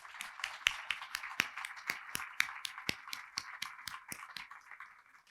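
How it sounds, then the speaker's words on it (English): A round of applause at a ribbon cutting for the Nick Rahall Congressional Archives in Beckley, with fairly distant, fast scattered clapping from a small crowd lasting steadily for about five seconds before tapering. "we'd like to do a round of applause for them"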